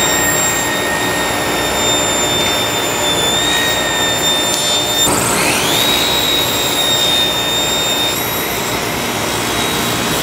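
A table saw cuts through plywood guided along the fence, giving a loud, sustained motor whine with a high tone that dips and recovers midway as the blade works through the board.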